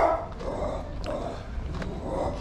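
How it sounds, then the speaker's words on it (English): A dog barks excitedly somewhere off at a distance, a few faint yips and barks scattered over a steady background of ambient noise, with no voices. "dog going crazy over there"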